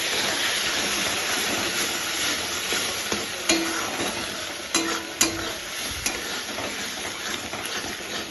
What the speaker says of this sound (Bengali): মশলা আলু কষানো হচ্ছে।